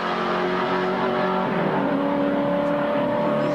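At the 1983 Bathurst 1000, the engines of Harrington's STP touring car and the cars around it roar loudly and continuously, pitch rising and shifting with no pause and no voices over them.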